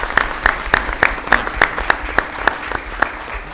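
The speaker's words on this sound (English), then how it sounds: "And I think we owe a round of applause." A few people clap at a commission meeting, sharp separate claps in a steady, fairly quick rhythm, close and clear with little crowd noise behind.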